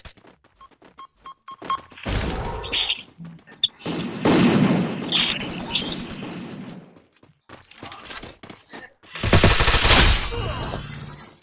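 Shotgun fire in the game Free Fire comes as loud, close, sharp bursts of blasts separated by quieter gaps, with several distinct volleys and no talk over them.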